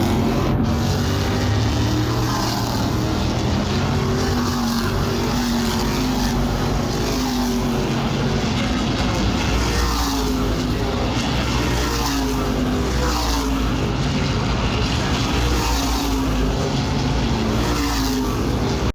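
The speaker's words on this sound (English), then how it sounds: "listen to the rumble of these engines" Loud, continuous roar of SK Modified race car engines at Stafford, a dense droning rumble with rising and falling revs that holds steady throughout, no voices.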